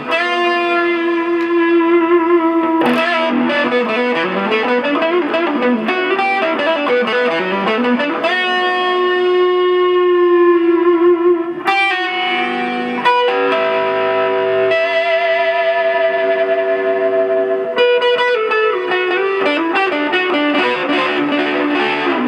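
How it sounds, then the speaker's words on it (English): An electric guitar played through two stacked overdrive pedals and an Afterneath modulated reverb rings out in sustained, distorted chords and bending lines with a long, shimmering wash, loud and alone throughout. "these two stacked overdrives, and my afterneath, which is a modulated kind of reverb thing."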